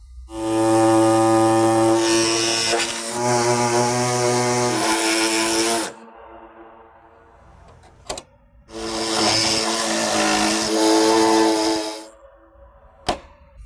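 A power tool cuts into a Jeep Wrangler fender for a cold air snorkel install, whining loudly in two long bursts separated by a quiet pause, with sharp clicks between runs.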